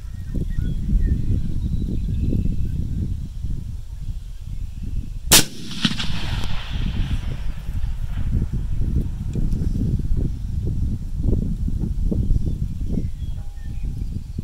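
A single sharp, loud rifle shot from a Uinta Precision rifle fired at a target 1,780 yards away rings out outdoors over steady wind rumble, with a brief trailing echo and no talking.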